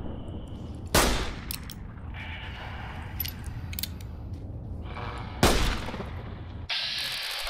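Two sharp, loud revolver gunshots in Fallout: New Vegas fire a few seconds apart, with clicks and mechanical handling sounds between them.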